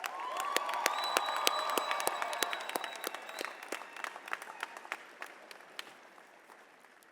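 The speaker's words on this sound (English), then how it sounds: "Let's give ourselves a round of applause." Newly graduated New York City correction officers applauding themselves at their ceremony, loud crowd clapping with cheers and shouts at first, then thinning into scattered individual claps as it fades.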